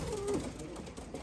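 Pigeons in a coop, a single soft low coo rising out of a quiet, faint background, heard briefly without any talk.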